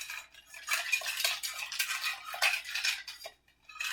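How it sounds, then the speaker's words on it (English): Spoon clinking and scraping against ice in a glass as a Malibu Barbie cocktail is stirred to chill it, a steady, busy rattle close by for several seconds with no talking. "all we're doing again with the stirring is cooling things down"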